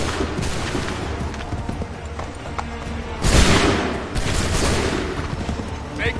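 A musket volley in Assassin's Creed III: one sharp, loud crash of massed gunfire at the midpoint, with ragged battlefield rumble and scattered shots before and after.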